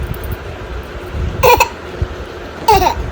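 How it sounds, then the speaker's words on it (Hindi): A baby girl hiccups twice, each a sharp close vocal squeak spaced about a second apart, with quiet room noise in between. "अरे हिचकी आ रही, हिचकी दिखा रही है"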